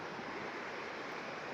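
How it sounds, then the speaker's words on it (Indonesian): The Mandar river, swollen and overflowing, roars as a dense continuous rush of water, loud and uniform, with no voices over it. "tiba-tiba saja Sungai Mandar meluap."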